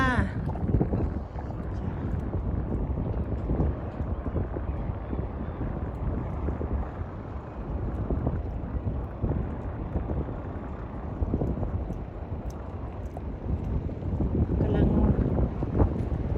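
Strong, gusting wind roars steadily across an outdoor spot by the water in a village, a broad rumbling buffet that swells near the end, with no clear voices in it.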